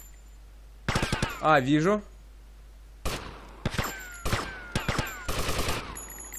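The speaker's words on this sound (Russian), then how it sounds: "Он стреляет." Gunfire from an enemy shooting in GTA Vice City, heard as several loud, sharp bursts of shots spread across the clip, with someone talking between them.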